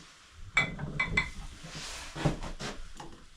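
Metal cutlery clinking together in a few quick, bright taps, close by, followed by softer rattling and handling.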